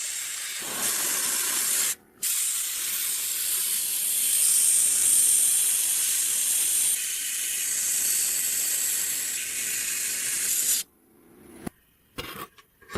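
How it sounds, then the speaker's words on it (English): A 1950s portable gramophone's metal lid and side panels being sandblasted: a loud, steady hiss runs without a break for about ten seconds, then cuts off with brief spurts of blasting at the end. "Sandblasting continues on the lid and side panels, ensuring the metal base is perfectly clean"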